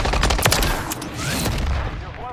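Rapid gunfire bursts in a competitive duo match of a shooter video game, a player tap pre-firing a lane; loud, dense cracks in the first second thinning into a busy game mix.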